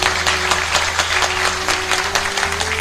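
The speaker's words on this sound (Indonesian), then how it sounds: "Tepuk tangan untuk kita semua." An audience claps together at a health and prayer talk, dense, loud applause continuing evenly throughout, with a low steady hum beneath.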